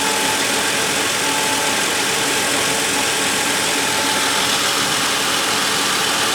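Ford Windstar 3.8L engine running smoothly with no misfire, a loud, steady mechanical hum and ticking that stays even throughout, close up and with no voices.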